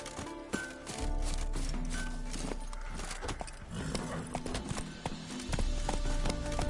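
In The Witcher Wild Hunt, a horse's hooves clop in a rapid galloping rhythm close by, starting after a brief pause and carrying on over a steady low background.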